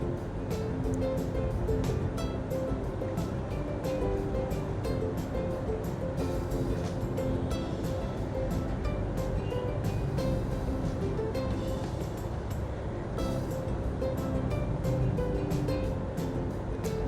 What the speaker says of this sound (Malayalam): ഇനി നമുക്കിത് നന്നായിട്ടൊന്ന് അരച്ചെടുക്കാം.